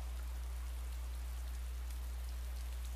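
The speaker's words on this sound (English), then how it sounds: "It's raining out. It's been raining for a long time on this game." Steady rain in the survival video game DayZ, a soft, even hiss of falling drops that continues without a break for the whole stretch, quiet and with no talking.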